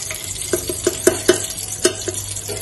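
Ghee heating in a hot pressure cooker on a gas stove, a series of about eight short crackles and metallic clinks at irregular intervals over a faint low hum, close and fairly loud.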